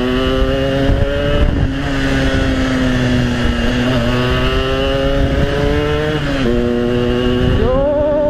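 A Yamaha RX King motorcycle engine drones steadily and loud while riding, its pitch dipping and rising with throttle changes and climbing sharply at the end.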